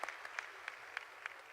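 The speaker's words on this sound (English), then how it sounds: "So let's clap for him again." Faint, scattered clapping at a university graduation ceremony, a few distinct claps spaced irregularly and heard from a distance.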